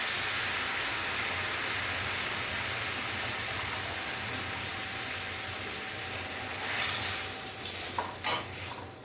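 Tamarind water with ground spice paste and turmeric boiling in a pan for South Indian pulikaichal: a steady, fairly faint bubbling sizzle that continues throughout with no talk.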